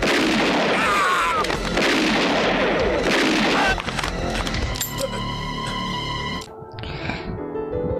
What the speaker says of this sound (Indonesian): Seketika terjadilah baku tembak antara Crab dengan anak buah Taro.